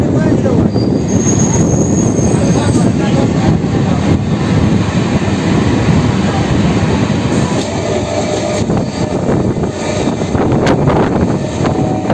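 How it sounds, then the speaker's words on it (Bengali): A Howrah–Bandel local train rumbles loudly and continuously into Belur station, wheels grinding and squealing on the rails, close up, as it slows along the track. "বেলুর স্টেশনের ট্রেন ঢুকছে এখন"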